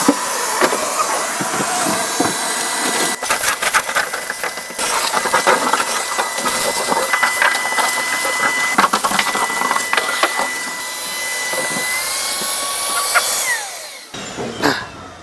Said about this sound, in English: Now time for the vacuum.